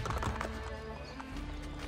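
Horse hooves clip-clop steadily at a close distance in Assassin's Creed Brotherhood, with a brief whinny over the rhythmic game soundscape and background tones.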